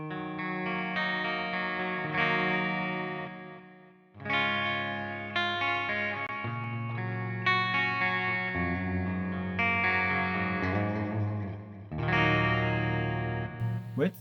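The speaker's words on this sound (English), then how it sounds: "With some reverb and delay." An electric guitar through the Audio Assault Hellbeast amp simulator's clean channel plays sustained chords and melodic notes, awash in reverb and echoing delay, with no voices.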